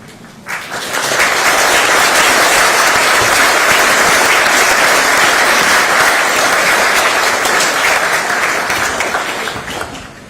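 A large audience at a US–China relations forum applauds the students, sustained dense clapping rising quickly and holding steady for about ten seconds before tapering at the end.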